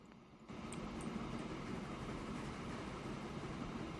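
A train pulls into a station in the video game Transport Fever: a steady, fairly faint rumble of rolling wagons that swells after a quiet first half-second and then holds level.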